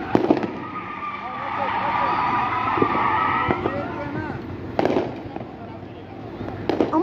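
New Year fireworks for 2023 go off outdoors, with sharp cracking bursts and whistling, crackling trails. Voices can be heard nearby between the explosions.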